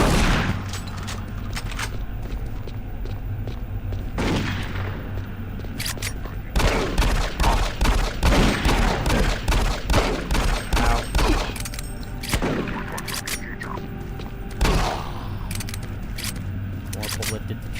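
Rapid bursts of gunfire from the shooter game Doom 3, loud and repeated in dense volleys across the stretch, with a voice talking over parts of it.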